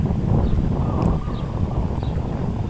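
Cool late-afternoon wind blows steadily over golden, ripe rice fields in the countryside, buffeting the microphone with a continuous low rumble and hiss. No one speaks.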